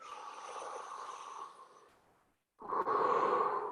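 A horn player's breath between exercise phrases in a French horn lesson: a soft, airy inhalation, then a brief pause and a fuller, louder breath at the end, with no talk.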